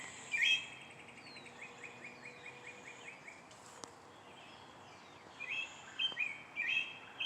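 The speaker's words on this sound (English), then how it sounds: "We got a robin right here." A robin and other birds chirp outdoors on a spring morning, with brief high calls scattered through the clip and clustering near the end over a faint, steady background hiss.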